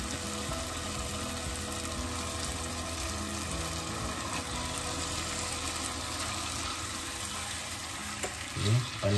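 Chicken pieces sizzling and being stirred in a hot pan while cooking a Malaysian ayam masak kurma, with a continuous frying hiss, scraping stir sounds and a brief clatter near the end.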